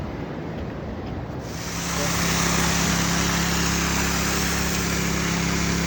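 A trash pump engine runs steadily at a beach rockpool for a seawater washdown, its hum swelling louder after a quieter start and holding a constant drone, with a broad rushing wash of water.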